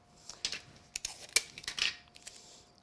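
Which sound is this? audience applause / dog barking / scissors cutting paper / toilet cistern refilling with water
scissors cutting paper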